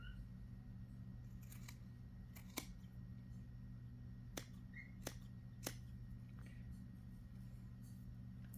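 A few crisp, separate snips from Kai high carbon steel scissors cutting a small piece, close and fairly quiet, spaced irregularly over a steady low background hum.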